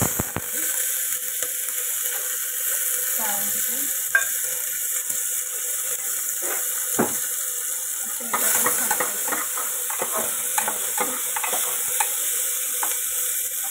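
Onion and tomato fry in a pan for chhole bhaji, a steady close sizzle with frequent scraping and clinking of a spoon stirring against the metal.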